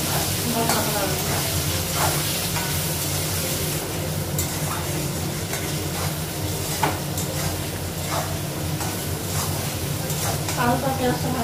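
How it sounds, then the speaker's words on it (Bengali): Boiled potato and tomato pieces fry in a pan with a steady, close sizzle and crackle, broken by repeated stirring scrapes and light clatter. A voice speaks faintly at times. "আর আলু সিদ্ধটা টমেটো টুকরা দিয়ে দেবো, একটু ভেজে নিই"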